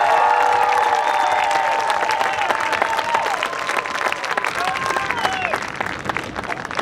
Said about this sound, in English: these kids deserve a huge round of applause for all the work that they did this year